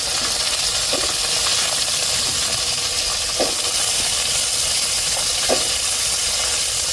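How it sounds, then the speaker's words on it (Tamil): Okra sizzles in hot tempering oil for a prawn curry, giving a loud steady hiss with small crackles and pops scattered throughout and no voices. "இப்போ வெண்டைக்காவை தாளிப்புலேயே சேர்த்துக்கிடுவோம்"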